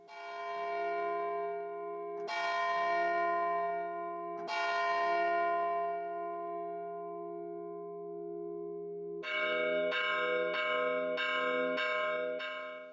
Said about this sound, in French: Le tocsin sonne.